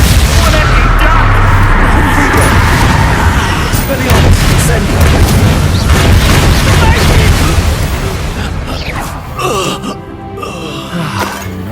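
A Bombarda spell explodes in Hogwarts Legacy with a loud, sustained booming blast that rumbles for several seconds before easing into lighter crackling debris.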